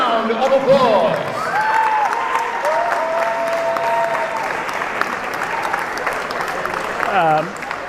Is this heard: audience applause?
yes